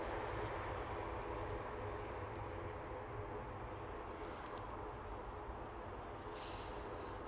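EasyJet passenger jet at Manchester Airport, arriving from Berlin, heard as a steady broadband engine roar that stays loud and even throughout, with no talk over it.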